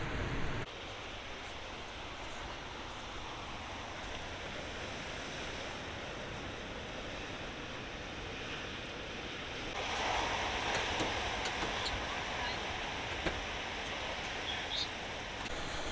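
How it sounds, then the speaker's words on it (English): Choppy ocean waves on a windy coast roar as a continuous broadband wash at low level, growing slightly louder and rougher midway, with no voices. "now we're getting the backlash with the waves"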